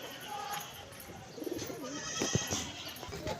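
Pigeons coo softly in a backyard loft where pigeon chicks are being raised, a few low warbling calls rising over faint background noise midway through.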